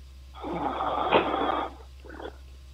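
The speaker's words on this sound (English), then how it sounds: "I think I can hear you breathing." A caller on a live call-in phone show breathes heavily as if asleep over the line: a long, raspy, snore-like inhale and then a shorter, softer one, muffled and close over a steady electrical hum.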